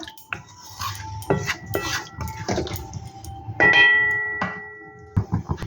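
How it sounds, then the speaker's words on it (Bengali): A spoon stirring potato curry in a metal pot after water from the spice bowl is added, with repeated clinks and scrapes against the pot, some ringing metallic tones and wet splashy movement. "এবার ভালো করে একটু নেড়ে চেড়ে নেব"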